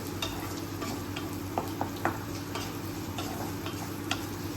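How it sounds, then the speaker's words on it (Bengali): Paneer sizzles steadily in a hot pan as it is stirred, with a continuous frying hiss and occasional light ticks and scrapes from the utensil, close and alone. "এবার ভাজা ভাজাটা হোক।"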